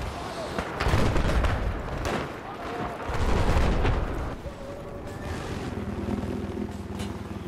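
Gunfire and heavy booming blasts from Battlefield 4 multiplayer Conquest combat, a sniper among the shooters, with loud bursts in two waves over a constant battlefield din and a voice speaking now and then.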